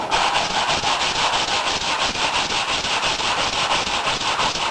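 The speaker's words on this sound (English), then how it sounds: "I'm done sanding." Steady, continuous sanding rasps with a rhythmic back-and-forth stroke across a crashed Suzuki GSXR motorcycle fairing, working thick paint around a large crack; close and loud throughout with no talking.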